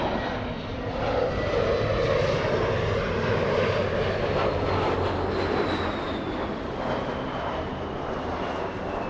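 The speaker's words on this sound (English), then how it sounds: "JetBlue 724 flying to JFK. That's an A321." JetBlue Airbus A321 jet at Los Angeles airport, a loud continuous engine roar with a faint rising whine, steady and unbroken throughout.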